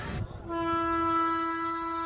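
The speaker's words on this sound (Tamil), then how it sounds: "சரக்கு ட்ரெயின் பொறுமையாக போயிட்டுருக்கு." A very long freight train at a railway gate near Chennai sounds a loud, sustained horn chord after a brief rumbling start, and the horn holds steady to the end.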